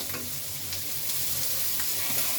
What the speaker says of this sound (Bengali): মাছটা এখন একটু উল্টে দিব